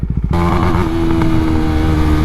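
A Husqvarna Svartpilen 401 single-cylinder motorcycle engine blips a few times, then revs hard and holds at the rev limiter with a loud, close, buzzing roar and no speech.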